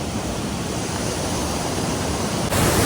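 A mountain waterfall in a hilly village setting, heard as a steady, close, full-band roar of falling water with no talk, brightening slightly near the end.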